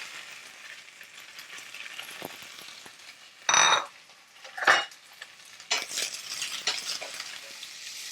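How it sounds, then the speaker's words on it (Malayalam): Chopped onions drop into hot oil with mustard seeds and curry leaves in a pan for a Kerala chicken dry roast, making a steady sizzle broken by loud bursts as they hit the oil and are stirred with a utensil. "ഈ അരിഞ്ഞ വെച്ച് ഉള്ളി ഇട്ട് കൊടുക്കാം."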